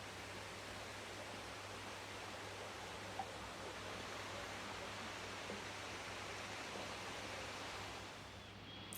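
A Himalayan waterfall on the Annapurna Base Camp trek roars as a steady, dense rush of falling water, constant and fairly close for the whole stretch with no voices.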